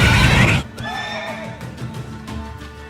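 A mare in The Witcher 3 Wild Hunt lets out a loud, close neigh, a wavering whinny trailing off after a burst of noise, with faint hoof clatter underneath.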